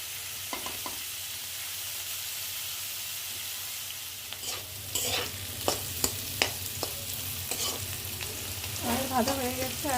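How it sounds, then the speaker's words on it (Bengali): Potato and flat bean mash fries in a pan on a home stove, giving a steady low sizzle with repeated scraping stirs that grow busier and louder toward the end. "লবণ দেওয়ার পর নাড়াচাড়া করবো কিছুক্ষণ।"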